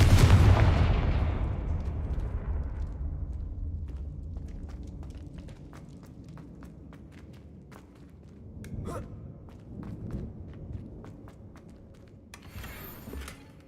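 A Confringo explosion spell bursts in Hogwarts Legacy, a heavy boom at the start whose rumble fades over several seconds, followed by quiet scattered ticks and a few soft thuds.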